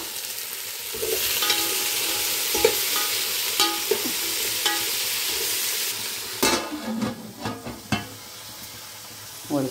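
Onions sizzle and fry in a pan for sambar, a steady hiss with stirring clinks and scrapes throughout, plus a few louder utensil knocks near the end; no talking.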